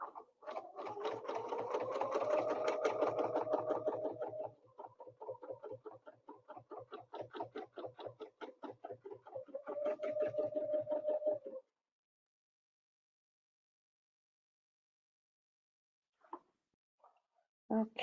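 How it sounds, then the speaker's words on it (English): A sewing machine stitches a quilt in rapid, even bursts of needle strokes for about eleven seconds with one brief pause, then stops, followed by a couple of faint knocks near the end. "I'm stitching where I didn't stitch on the row before"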